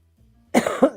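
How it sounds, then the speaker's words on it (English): Two harsh coughs in quick succession, close and loud, following a brief low rustle. "Turn the mic off for a second so I can cough"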